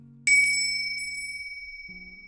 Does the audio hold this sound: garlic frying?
no